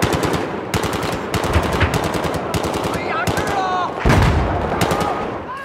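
Rapid automatic gunfire from a vehicle turret in the video game Battlefield 4, sustained bursts with brief gaps, loud and close, with faint voices underneath.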